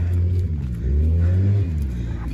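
A four-wheeler ATV engine rumbles up from behind, a low, throaty hum that rises and shifts in pitch as it moves at a moderate distance.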